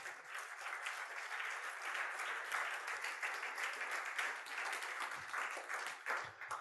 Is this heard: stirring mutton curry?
no